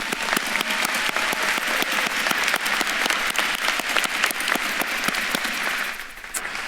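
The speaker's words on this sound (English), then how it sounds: "Give yourselves again a round of applause." Graduates at a university school of social work commencement ceremony applaud steadily, a dense sustained clapping that fills the hall for several seconds before easing off near the end.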